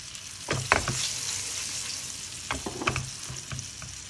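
Salmon chunks sizzle in a pan with lemon being added nearby, a steady frying hiss broken by a few louder bursts of stirring and spattering near the start and toward the end.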